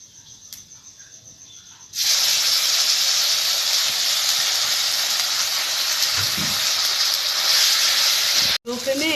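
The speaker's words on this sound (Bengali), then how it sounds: "লো ফ্লেমে এটা ভাজতে হবে।" Spice paste with bay leaf and garam masala hits a hot pan and sizzles loudly, a sudden steady hiss that continues for several seconds at close range before a brief clatter.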